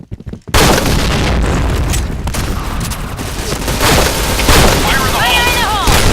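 Dense grenade explosions and gunfire fill a Point Blank match, one continuous loud barrage of booms and bursts. It breaks in after half a second of near silence, and a shouted game voice rises through it near the end.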